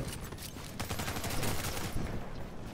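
Gunfire in the video game The Division comes as a dense, continuous barrage of overlapping shots, loud and sustained, with no clear gaps between bursts.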